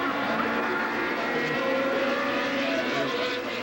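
Classic racing cars lapping the Wallerfield circuit in Trinidad, engines droning steadily and loud throughout, with a commentator's voice talking over the mechanical roar.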